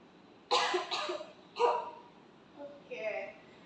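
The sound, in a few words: effective cough on instruction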